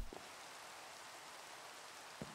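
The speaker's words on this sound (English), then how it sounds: "Oh, I guess because it's raining." Rain falls in the blocky video game Minecraft, a steady soft hiss with a couple of faint clicks at the start and end.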